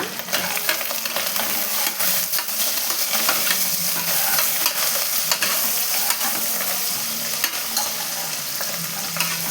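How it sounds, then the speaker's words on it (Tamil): Onions sauté with salt in a pan for Kerala-style kadalai curry, a loud continuous sizzle broken by frequent stirring scrapes, close and without talk. "இது ஒரு 5 நிமிஷம் நல்லா வதங்கிட்டுங்க ஆனியனை"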